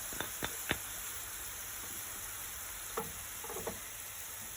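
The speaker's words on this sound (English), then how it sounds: "So as you can see, the onions are browning nicely." Garlic goes into onions browning in a pan for a vegan butternut squash and spinach curry, giving a faint steady sizzle broken by a few sharp stirring clicks.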